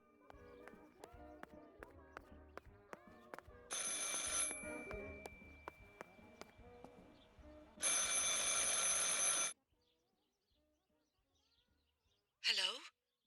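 Bursts of harsh telephone ringing in the game Martha Is Dead, two long loud rings over a rhythmic clip-clop of hooves and other ambience, then near silence and a brief final ring.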